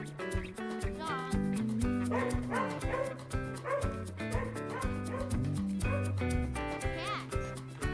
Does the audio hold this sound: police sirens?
no